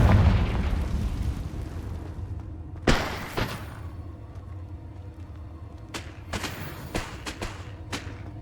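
Confringo blasting spells explode in the wizarding game Hogwarts Legacy: a heavy burst with a rumble, then a string of sharp, punchy blasts spaced a second or so apart.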